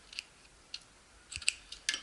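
Scissors snip loose sewing thread beside a sewing machine, giving a few short, crisp metallic clicks spaced unevenly, quiet and close with no talking.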